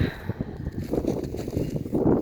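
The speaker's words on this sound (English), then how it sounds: "It's a bit windy down here." Gusty north wind buffets the microphone beside the water, a rough, continuous rumble with uneven surges, heard alone.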